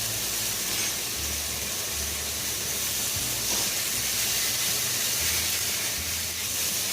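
Soy sauce sizzles on a T-bone steak in a hot pan, a steady broadband hiss that holds for the full seven seconds without a break, with a faint low rumble running underneath it.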